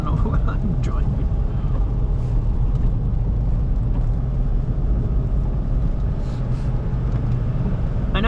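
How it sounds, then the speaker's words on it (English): Steady rumble of a car driving through rain at night, tyre and rain noise filling the cabin evenly throughout with faint intermittent ticks on top. "driving at night like this in the rain"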